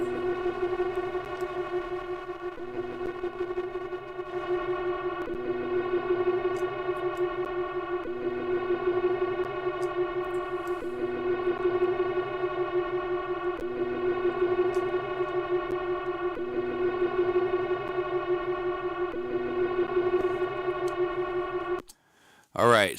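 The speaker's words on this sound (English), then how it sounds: "we've introduced some strange type of distortion" An atmospheric synth pad carries a strange distortion effect, a sustained, loud, evenly layered tone with a slight warble, which cuts off abruptly near the end.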